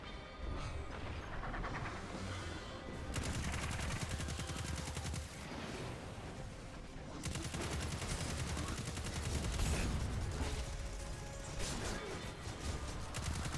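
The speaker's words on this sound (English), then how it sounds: "Stop shooting me, please." Sustained automatic gunfire in the PC game Destiny 2, with steady rapid bursts over almost fourteen seconds and short pauses between volleys, fairly quiet in the mix and with no talking heard.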